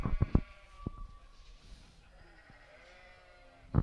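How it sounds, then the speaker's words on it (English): Sheep bleating inside a livestock show tent at a county show, several short bleats near the start and another at the end, with murmuring crowd and distant animal noise in between. "we are in a sheep tent once again, and I'm just going to quickly ask a sheep"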